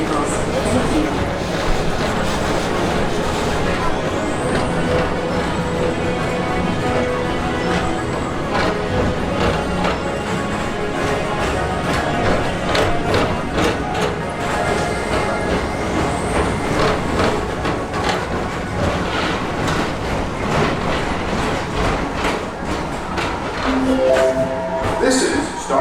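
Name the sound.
Tomorrowland Transit Authority PeopleMover ride vehicle running at night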